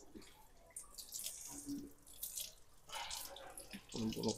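Tap water runs and splashes as crabs are washed under a kitchen faucet, with intermittent splashy bursts and drips, fairly quiet and close, with brief talk.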